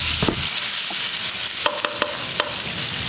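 Mutton kofta and spiced masala fry in oil with a steady close sizzle, broken by a few sharp scrapes and knocks as a spoon stirs the pan; no talking.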